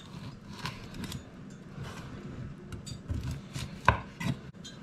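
A knife chops smoked dried beef (aliya) into fairly large chunks on a board, nearby. The cuts come as a run of irregular, dull thuds over about five seconds, fairly quiet, with one sharper knock near the end.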